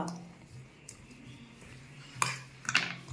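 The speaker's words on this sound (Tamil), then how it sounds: "இது பாருங்க, இப்படி கிளறிக்கலாம்." A utensil stirs kurma in a pan, with soft scraping and a couple of louder metallic clinks near the end; no one talks.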